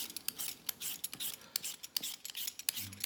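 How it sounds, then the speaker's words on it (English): A potato is peeled with a hand peeler in close, quick scraping strokes, rasping bursts repeating in an uneven rhythm with no talk. "So we start just by peeling a potato."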